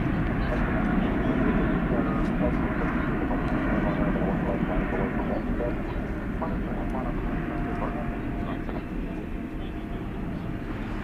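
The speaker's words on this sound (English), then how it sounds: "It's American Flight 175 going to Haneda Airport in Tokyo. It's a 7879 Dreamliner." American Airlines Boeing 787-9 Dreamliner bound for Tokyo Haneda, heard at night at Dallas Fort Worth Airport; a continuous loud jet engine roar fills the scene, easing slightly in the second half.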